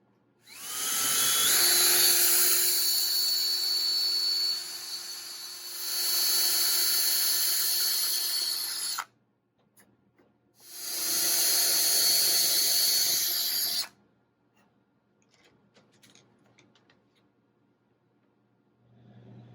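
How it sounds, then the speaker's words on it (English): A high-pitched power drill whines through a wooden model railroad sub-roadbed in two long bursts close up, separated by short pauses, then quiet rustling. "Now I can start drilling holes down through the sub-roadbed"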